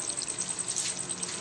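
Mutton karahi sizzles hard in the pan as julienned ginger goes in, a close, dense, continuous frying crackle that holds steady through the whole moment, with no talking.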